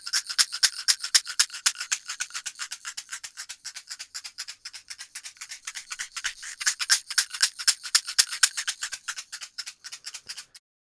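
A small shaker rattles in quick, even rhythmic bursts of bright, hissy grains, moving around a JTS SX-7 cardioid studio microphone, so the level swells and dips.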